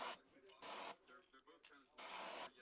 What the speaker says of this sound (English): make sure that you do spray it wet on wet and do not heat set